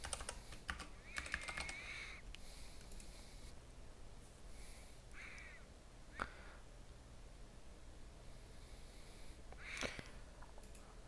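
Typing a username and password on a computer keyboard, with bursts of key clicks and scattered single taps over a steady background hum, close up, no speech.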